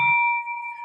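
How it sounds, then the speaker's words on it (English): A bell rung in an office to celebrate a closed wholesale real estate deal gives one clear struck tone that rings on as a steady, fading sustain, loud and close with no talk over it. "Ring that bell."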